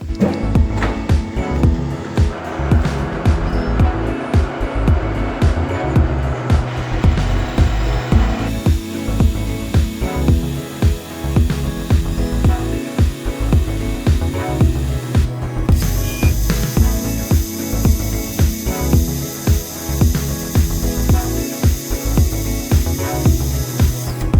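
Metal lathe cutting steel while making a chuck key, a continuous dense mechanical churn with rhythmic rattling and a higher scraping tone entering midway, loud and steady without talk.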